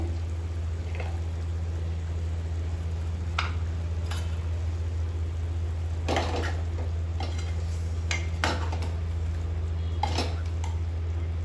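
A metal spoon clinks and scrapes intermittently against a cooking pot of chicken and egg curry, a few distinct scrapes standing out over a steady low hum, with no talking.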